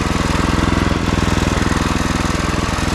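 A Predator 224 engine runs steadily on a vintage Ariens mower, a loud, close, even small-engine chug with a rapid pulsing beat and no voices over it.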